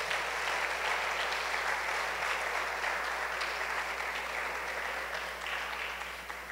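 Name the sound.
congregation applause in church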